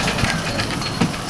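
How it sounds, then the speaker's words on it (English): A mine train roller coaster at Ocean Park rolls along its rails with a brief, close run of rhythmic rattling clicks and a couple of louder clunks. "All right, Jackson, run the mine train."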